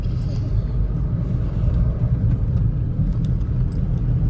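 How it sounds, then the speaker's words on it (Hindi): Motorcycle riding along a road, a loud continuous low engine rumble with wind buffeting, steady throughout and close to the rider. "मोटरसाइकिल चला हुआ है"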